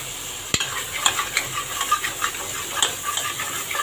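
Prawns frying in a pan for biryani while a ladle scrapes and stirs the bottom: a soft continuous sizzle broken by repeated clinking scrapes, one sharp knock near the start.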